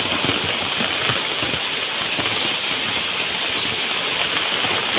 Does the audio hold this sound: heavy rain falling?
yes